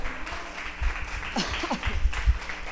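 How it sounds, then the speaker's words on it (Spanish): A church congregation claps in a broad, continuous wash of applause in praise, with scattered voices calling out over it. "Denle al Señor un aplauso de alabanza por eso."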